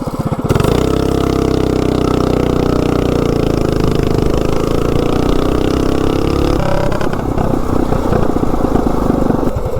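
Tuned mini bike engine with header pipe, high-flow air filter and adjusted air-fuel mixture, loudly accelerating from a standstill up to 30, a steady close droning roar rising through the gears with a shift near the end, no talk.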